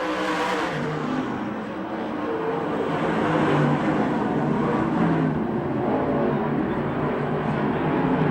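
USAC/CRA sprint cars race at Manzanita Speedway, a dense, continuous engine roar with overlapping revving tones from a bunched pack, steady and loud with slight surges as cars pass.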